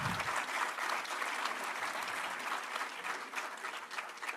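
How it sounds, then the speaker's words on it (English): Audience at an AI congress and awards event in Pune giving a round of applause during a group photo, a steady blanket of clapping from a crowd, moderately distant and fairly soft. "Can we hear a good round of applause?"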